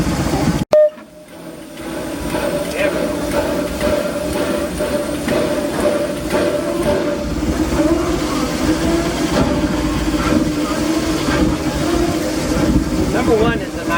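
Disneyland Railroad steam locomotive Engine #1, the C.K. Holliday, with a slight timing issue, heard from the cab as a loud steady rumble and chuffing with rhythmic clatter, a sharp burst near the start, and talk over it.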